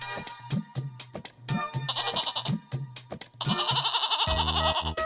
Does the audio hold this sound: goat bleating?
yes